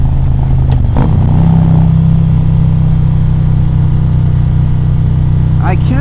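Harley-Davidson motorcycle engine running steadily during a ride, a continuous loud low rumble with a brief burst near the start, fitted with a Mustang seat.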